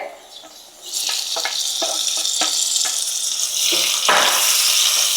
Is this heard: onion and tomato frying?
yes